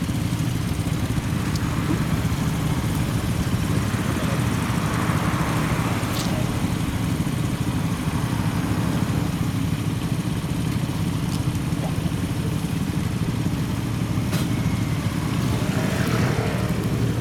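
A customized Kawasaki Z400FX street racer idles through a Yoshimura exhaust, a steady, loud low rumble with continuous engine roar throughout and no breaks.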